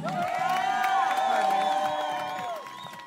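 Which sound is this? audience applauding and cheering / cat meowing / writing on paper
audience applauding and cheering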